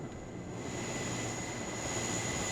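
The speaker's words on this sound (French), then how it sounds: "Les hélicos arrivent tranquilles." Helicopters approach in the video game WARNO, a steady engine drone with a high whine, moderately loud and unbroken throughout, with no talk over it.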